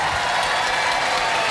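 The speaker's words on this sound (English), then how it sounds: "give them a round of applause" Studio audience applause at a Robot Wars robot combat heat, a brief, even roar of clapping from a large crowd, loud and sustained across the short clip.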